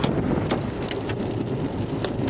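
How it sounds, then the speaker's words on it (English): Large hail pelts down during a storm, a loud, dense roar of ice striking hard surfaces close by, with sharper individual impacts cracking through at irregular intervals. "Hail coming, big hail coming."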